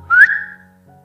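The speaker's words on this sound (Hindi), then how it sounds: "सीटी मार के।" A person gives a single short whistle, a bright rising note that fades quickly, heard close and alone.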